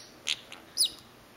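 Two pet birds give a pair of short, high chirps a moment apart, faint and close with no talking over them.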